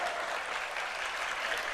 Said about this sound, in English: with a very loud clap and with a very loud Hari Bol, please welcome Her Grace Sukavaha Mataji